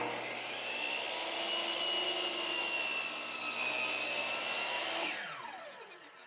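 Makita miter saw cutting through a 1x6 board, a loud steady high-pitched whine with blade-on-wood grinding for about five seconds, then spinning down as the cut ends.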